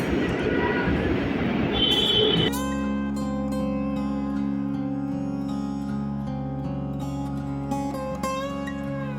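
A Dhaka metro train runs with a loud, steady rolling rumble and motor whine. A rising tonal hum takes over after a noisy start, and a few faint squeals and clicks sit on top of it.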